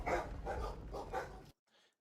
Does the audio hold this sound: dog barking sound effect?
yes